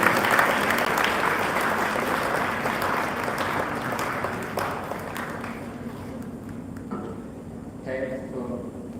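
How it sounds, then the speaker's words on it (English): An audience at an inauguration ceremony applauds in a dense, sustained burst that slowly thins, with voices emerging as the clapping fades out toward the end. "with a huge, huge round of applause"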